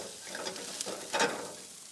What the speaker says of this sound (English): Give our cumin and our chilies a little stir just to make sure they're cooking evenly.